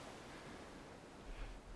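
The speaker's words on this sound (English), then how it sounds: "Seeing those waves crash slowly against the stone." Ocean waves washing slowly against stone, heard as a soft, steady broadband roar with a slight swell near the end, distant and fairly faint, no voices.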